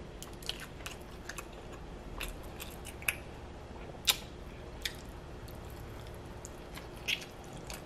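Someone chews sweet, tender barbecue ribs from Lucille's BBQ up close, soft wet bites and smacks with occasional sharper crunchy clicks over a quiet background.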